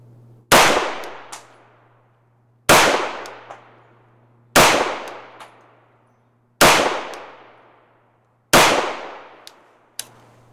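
Five loud pistol shots of 124 grain Hornady Critical Defense ammunition ring out evenly spaced about two seconds apart at an outdoor range, each with a sharp crack and long ringing decay, plus a faint metallic ping.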